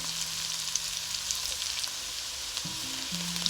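Chopped onion frying in a pan over high heat for fried rice: a continuous close sizzle with light crackles, and a few brief tonal sounds near the end.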